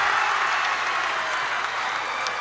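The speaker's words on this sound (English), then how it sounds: "the crowd goes wild" Girls high school basketball crowd at a PIAA 2A first-round playoff game, Wilmington against Fort Cherry, erupting in loud, sustained applause and cheering that fills the gym evenly throughout, dense and unbroken.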